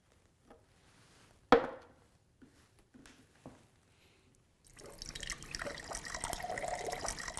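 A Conga water machine set to 7.0 pH clean water dispenses it: after a few soft knocks and one sharp clunk, a steady, moderately loud stream of pouring water begins and continues to the end, with no talking.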